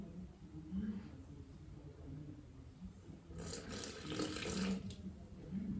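A kitchen tap runs to measure out 50 g of water for a Thermomix recipe, a steady splashing hiss that swells louder partway through, with a faint voice in the background.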